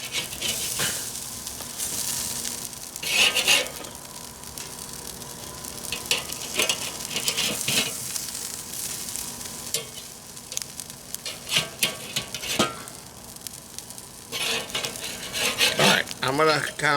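Burgers sizzle steadily on a kettle grill while being flipped, with a constant frying hiss broken by scraping and clattering of the spatula and grate.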